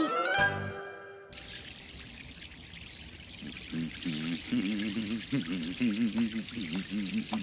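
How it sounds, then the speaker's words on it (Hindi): Water gushes over a car being washed in a Shinchan cartoon episode, entering after a short musical tone and then pouring steadily and close while a voice talks over it. "अरे वाह, आज आप अपनी गाड़ी धो रहे हैं?"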